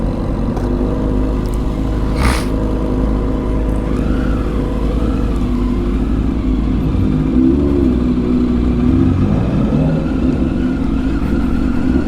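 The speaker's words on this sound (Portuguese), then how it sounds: "O barulho dessa moto não tem igual, é surreal" A motorcycle engine revs loudly on São Paulo streets, a continuous heavy roar that swells and falls in pitch without a break, with no talk over it.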